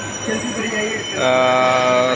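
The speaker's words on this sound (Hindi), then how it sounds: "ये आ गया मेट्रो।" Delhi Metro train pulling into a station, a rising rumble that swells into loud steady tonal whine and rail hum from about the midpoint, with crowd ambience beneath.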